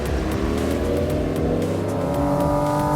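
A Porsche Cayman RS sports car drives hard on a race track, its engine roaring loud and close with shifting revs and a rising pitch, heard from inside with no talking.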